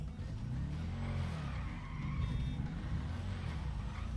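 A car in GTA V Online speeds away, its engine droning low and steady with a faint tire squeal, moderately loud and continuous for the whole stretch, no voices over it.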